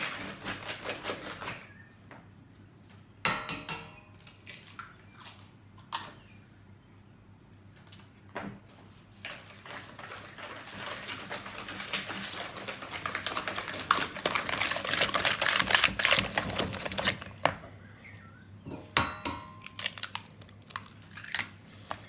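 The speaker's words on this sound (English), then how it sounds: "Now we're just going to whisk this in and give it a couple of minutes." Brownie batter with eggs being whisked in a bowl: rapid, close clicking and scraping of the whisk against the bowl comes in bursts with short pauses, and no one speaks.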